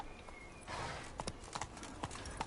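Galloping horse hooves in The Witcher 3 on PS5 beat out a quick, regular clip-clop, quiet in the mix, with a brief rush of wind-like noise partway through.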